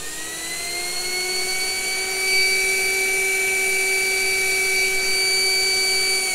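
A new-design 3D-printed three-phase electric jet motor runs at steady speed, giving a loud, continuous high-pitched whine with stacked tonal harmonics that hold nearly constant, with a slight upward shift partway through and no speech.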